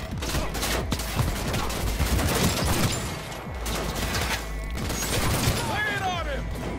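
Rapid automatic gunfire and bursts of shots fill a firefight in the video game Cyberpunk 2077, dense and loud, with crashes and a voice calling out amid the shooting.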